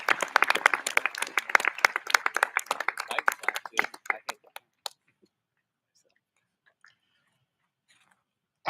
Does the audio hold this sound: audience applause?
yes